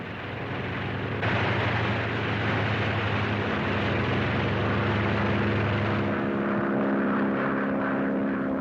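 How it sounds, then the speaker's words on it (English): Loud, steady drone of a small plane's engine from an old flying film, holding throughout with a slight rise in pitch early on as it revs up; no talk over it. "Now all I gotta do is get on that plane."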